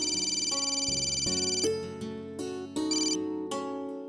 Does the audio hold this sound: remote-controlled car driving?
no